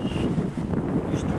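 Wind blows at Tropicoco Beach near Havana, Cuba, a steady low roar buffeting the microphone, loud and continuous with no voices.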